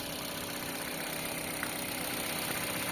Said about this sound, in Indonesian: Untuk mesinnya sendiri ini masih terbilang halus ya teman-teman, dengan kondisi kilometer 134 ribuan ya teman-teman.